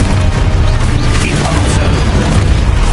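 A Confringo fire spell bursts in Hogwarts Legacy combat, a heavy booming blast with crashing debris that stays dense and loud without a break, mixed with game clatter.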